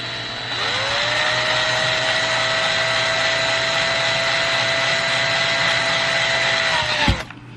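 A power drill slowly drills a hole in a Canon G7X Mark II camera, running continuously at a steady, high-pitched whine for about seven seconds, close by, then stops abruptly.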